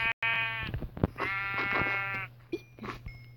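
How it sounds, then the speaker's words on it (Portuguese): Several sheep bleat in quick succession, loud and close, with one long wavering bleat followed by shorter calls and a brief high tone near the end, over a steady low hum. "Ovelha."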